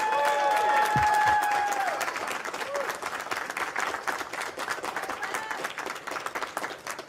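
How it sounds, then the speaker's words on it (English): An audience at the PSC 2017 Bahamas Main Event poker tournament gives the runner-up a round of applause. Sustained, dense clapping from a sizeable crowd fades slightly while a voice speaks over it. "let's get a quick round of applause for our runner-up, Cliff Josephine."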